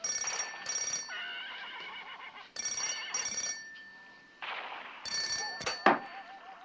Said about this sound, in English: Get the phone, will you, Tim?